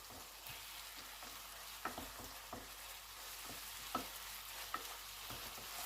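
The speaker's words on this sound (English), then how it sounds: "we're going to start frying the chorizo" Chorizo frying in oil in a pan makes a soft, continuous sizzle with occasional light clicks and scrapes of stirring, quiet and close, with no voices.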